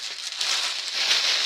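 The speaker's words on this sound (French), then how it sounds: "Excusez-moi pour le bruit des papiers." Paper is crinkled and rustled close up in a continuous, dry crackling stream lasting a moment.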